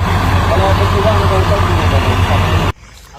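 A loud, rumbling car engine runs close by on a muddy road, steady and heavy, then cuts off abruptly near the end.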